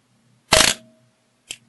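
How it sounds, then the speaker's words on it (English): A sharp mechanical SLR camera shutter clack at 1/1000 second with a brief ringing tail, followed about a second later by a smaller click as the mirror drops back. "Shutter shuts, mirror flips back down again."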